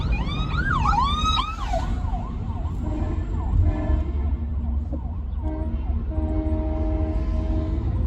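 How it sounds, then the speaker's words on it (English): Loud blasts of an ambulance's air horn and warbling siren nearby, over heavy low traffic rumble, fading into a drawn-out wail. "You hear them air horns? I love them air horns."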